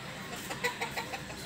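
Chicken clucking in short soft bursts, a few separate calls over a faint hiss of background noise, no talking.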